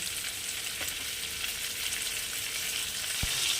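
Pointed gourd (potol) fries lightly in oil in a wok, a steady close sizzle with a soft thump of stirring near the end and no voices.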